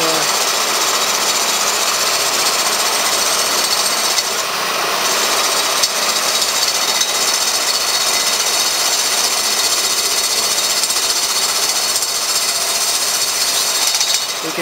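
A power tool cuts a bolt hole in a corroded Mercruiser Y-pipe on a Baja 190ES boat, producing a loud, continuous grinding buzz for about fifteen seconds with only small dips.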